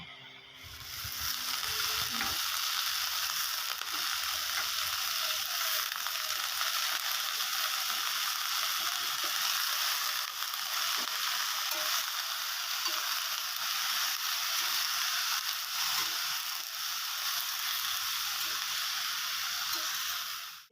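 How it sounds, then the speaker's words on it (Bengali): Ridge gourd frying in a wok gives a loud, unbroken sizzle that lasts about twenty seconds, with faint stirring scrapes and no talking. "এদিকে দেখো ঝিঙে ভাজা হয়ে গেল"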